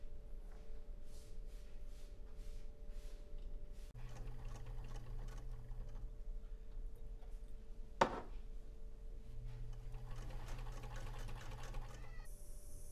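Sewing machine stitching plaid fabric for a dress, two steady runs of fast mechanical whirring separated by a pause and a sharp click, fairly quiet and close.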